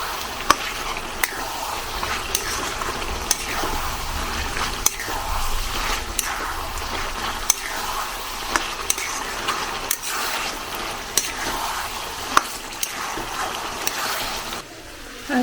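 Duck meat frying in a pan for an Assamese-style duck curry, a soft continuous sizzle broken by regular scraping and stirring strokes, close and fairly quiet.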